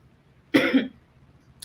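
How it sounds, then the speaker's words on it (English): A single sharp cough burst, close and fairly loud, followed by quiet and a faint click at the end. "I kind of have a cough"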